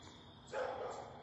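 A single faint dog bark from somewhere in a residential neighborhood rises briefly over a quiet background hiss, distant and alone with no talking.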